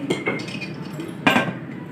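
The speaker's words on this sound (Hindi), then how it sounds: "और ऊपर से प्रेशर कुकर को बंद कर देंगे।" A pressure cooker lid clanks onto its pot full of beef and lentils for shami kabab, several metallic clinks and knocks followed by a sharper clatter as it seats, close and fairly loud.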